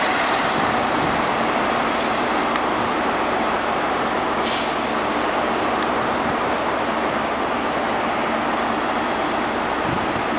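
A Class 450 electric train pulls out of Reading station, a steady broadband rumble and rail hiss filling the whole stretch, with one brief high squeal partway through and no voices.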